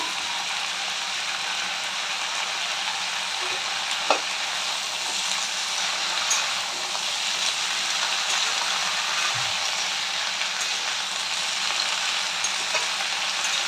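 Chopped Malabar spinach leaves being stirred into a frying pan, giving a continuous close sizzle with soft scraping of the spatula and a few light knocks, alone with no voices.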